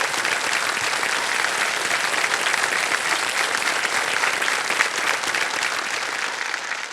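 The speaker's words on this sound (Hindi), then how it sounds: "ये तालियां बज जाएं इनके लिए" Sustained, dense studio audience applause on a Hindi quiz show set fills the whole stretch at a steady, loud level, with no speech on top.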